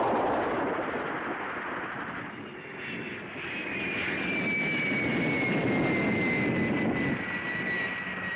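A propeller or jet airplane roars overhead in the Gamera giant-monster film: a loud, continuous engine drone with a rising-falling whine that swells and fades slightly.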